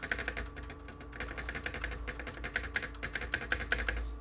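A computer keyboard spacebar is clicked over and over in quick succession, a close, steady patter of plastic key taps with no talk.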